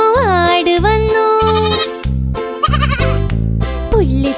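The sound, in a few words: goat bleating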